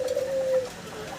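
An almond-coloured Jacobin pigeon coos once, a single sustained low tone held for about half a second, close and moderately loud, followed by quiet room background.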